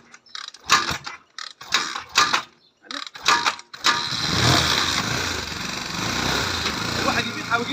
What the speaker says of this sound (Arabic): استنى ما ندور الدباب.